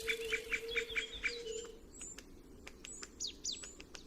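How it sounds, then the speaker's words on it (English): Great spotted woodpecker chicks in a nest hollow give a rapid, insistent series of high chirps, with shorter scattered calls following, heard close against a faint steady background hum. "As soon as they grow up a little, they start chirping incessantly"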